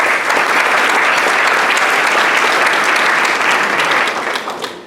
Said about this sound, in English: So another big round of applause again for all the committee leadership.